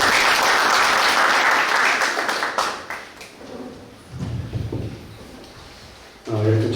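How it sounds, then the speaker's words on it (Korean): An audience claps to welcome the mayor at a policy debate, loud applause fading over about three seconds into thumps and shuffling, then a voice begins. "큰 박수로"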